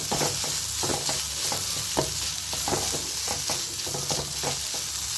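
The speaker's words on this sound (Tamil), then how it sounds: "இப்போ வெங்காயத்தோடு சரி கருவேப்பிலை நல்லா வதக்கிக்கலாம்" Onion and curry leaves sautéing in a pan for semiya kichadi, a constant hissing sizzle with regular scraping stir strokes about twice a second, close and steady, without speech.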